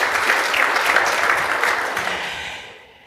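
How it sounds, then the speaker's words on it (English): Audience applause at a technical session on PowerShell, Exchange Online and Microsoft Graph: a dense, steady wash of many hands clapping that holds for most of the clip, then fades out toward the end. "Applause for him, please."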